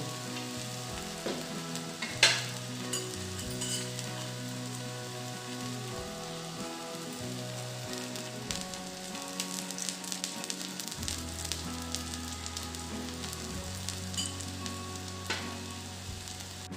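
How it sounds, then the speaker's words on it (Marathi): Sweet potato pheni roasts in ghee in a pan, a soft, steady sizzle and crackle of frying that continues evenly throughout with a few faint clinks, no voices. "आपण दुसरी बाजू पण तूप टाकून छान भाजून घेऊ"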